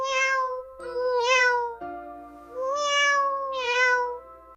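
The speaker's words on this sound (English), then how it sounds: "That is why the cat may keep crying after food appears." A cat meows loudly several times in a row, long drawn-out cries with rising and falling pitch, close and clear with nothing else behind them.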